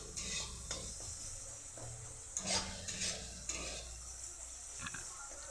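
Shidol chutney frying and being stirred in a pan, a steady sizzle with scraping utensil strokes against the metal, close and fairly loud with no talking.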